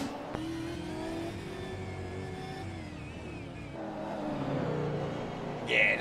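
V8 race cars accelerate through an overtake around the outside on the Detroit Grand Prix circuit in a sim racing game, engines revving and shifting up in a fairly quiet, continuous drone, with a higher whine briefly near the end.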